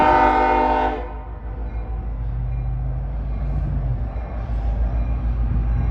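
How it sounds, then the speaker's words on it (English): A loud train horn blares briefly, then a heavy Norfolk Southern freight train runs down the street on a rusty spur line, rumbling steadily past close by, its low engine drone filling the rest. "Got a street running train coming."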